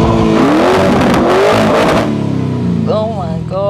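A car in Dubai revs its engine loudly, rising and falling in a few strong surges before settling into a lower rumble, with a voice talking near the end.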